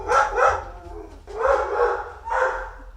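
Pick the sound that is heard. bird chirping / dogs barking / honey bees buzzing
dogs barking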